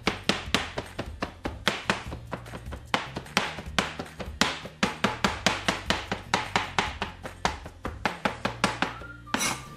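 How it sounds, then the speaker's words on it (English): A knife chops smoked brisket on a cutting board into rough chunks for barbecue spaghetti: a steady, rapid series of loud, close thunking blows repeating without pause, with no talk. "we're gonna chop it up to mix it in for our barbecue spaghetti"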